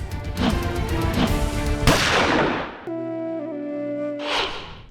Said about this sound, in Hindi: और उसने गोली चला दी।